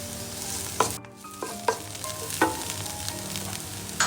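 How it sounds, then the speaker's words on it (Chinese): Shiitake mushrooms are stir-fried in a pan over medium-low heat, giving a steady close sizzle broken by scraping spatula strokes at irregular intervals. "可以放香菇炒了。 香菇一样哦，我们不要开太大火，就开中小火炒就好了。"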